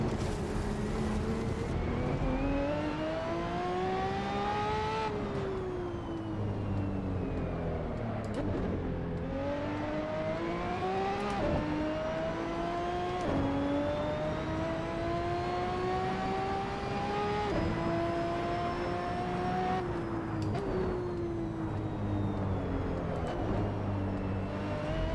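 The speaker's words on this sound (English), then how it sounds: "This car sounds pretty crazy" A race car engine in the iRacing sim roars continuously, revving up and down through repeated gear shifts, loud and alone for the full run.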